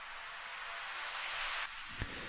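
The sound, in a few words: riser sound effect in melodic techno track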